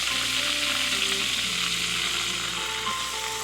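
Spicy egg-coated chicken frying in a pan on an electric stove, a close, even sizzle that holds steady with faint tonal hums underneath and no talking.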